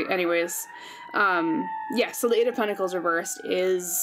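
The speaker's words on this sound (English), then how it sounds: "apologize for the sirens in the background" An emergency siren wails continuously in the background outside, a steady tone sliding slowly in pitch, running under close, clear speech throughout.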